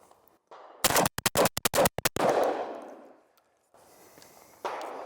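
Beretta 1301 Tactical shotgun emptying its magazine in rapid fire with double-aught buckshot: a quick burst of about eight sharp, loud blasts, followed by a rolling echo and quiet outdoor ambience.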